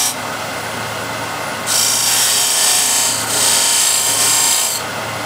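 A steel turning tool point cuts a bead into spinning wood on a lathe, making a loud continuous scraping hiss that swells brighter in two bursts, with no talking.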